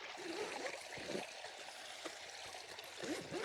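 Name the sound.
waterfall flowing on a river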